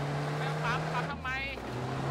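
Vehicle engine droning steadily while driving in the battle royale game PUBG, a constant low hum with water splashing, under excited talk from players.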